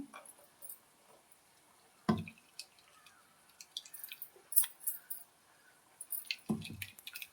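Ground coconut squeezed by hand to press out the milk, giving soft wet squishes and drips with a couple of sharper splashes, quiet and close with no talking.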